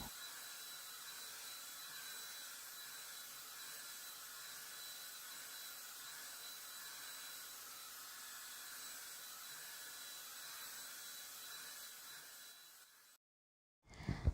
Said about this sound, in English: as I'm blow drying, I'm not having a difficult time blow drying it